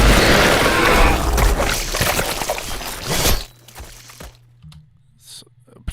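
A gurgly horror creature sound effect made with the Reformer plugin: a dense, loud, wet churning texture for about three seconds, then thinner, quieter bubbling and low rumbles trailing off.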